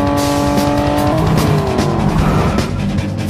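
A car accelerating hard at close range, loud engine roar rising in pitch with a tire squeal layered over it, continuous for a few seconds with no talk.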